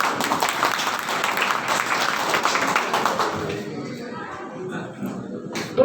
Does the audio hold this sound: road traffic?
no